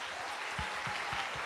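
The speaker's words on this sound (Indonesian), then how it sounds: "tepuk tangan dulu dong." A church congregation claps briefly at a morning prayer service, soft, thin clapping with a few distinct beats, fairly faint and distant.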